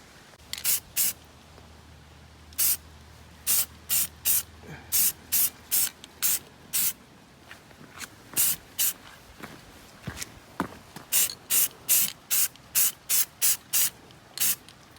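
Repeated short bursts of an aerosol spray can applying a second coat of dark bronze paint to a Ford Ranger wheel, each hiss about half a second long in a steady stop-start rhythm, close and clear with no talking.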